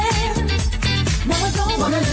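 Disco music from a new album plays loud and up close, with a steady pulsing beat, bass line and sustained melodic tones running throughout without any talking over it.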